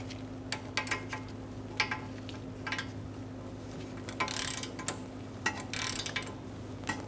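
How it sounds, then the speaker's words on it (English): A torque wrench tightening a steering rack nut on a 2013-2022 Buick Encore during a bellow boot replacement, making faint scattered ratcheting clicks over a low steady hum. "So we're going to torque this nut to 22 foot-pounds first."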